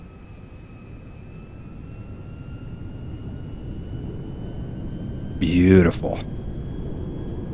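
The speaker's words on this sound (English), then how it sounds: "Let's go ahead and do a takeoff in first person." A DC-10 airliner in GTA V rolls for a night takeoff, a steady jet engine whine and rumble building slowly under a brief spoken word, with a short burst of other noise near the end.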